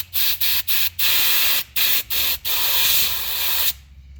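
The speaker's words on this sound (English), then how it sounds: "I'll get a blowgun and see" A compressed-air blowgun blasts into Ford truck engine passages in a series of loud, close hissing bursts: several short sharp puffs in quick succession, then one longer sustained blast before cutting off.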